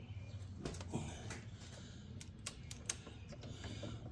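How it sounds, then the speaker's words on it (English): Relays on a riding mower click faintly in a quiet setting, several sharp irregular ticks spread over a few seconds above a low steady hum. "I can hear the relays clicking now though."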